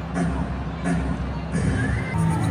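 Steady roar of a packed arena crowd of over 12,000 at a Ginebra vs TNT PBA finals basketball game at Araneta, loud and continuous with swelling murmurs beneath a commentator's voice.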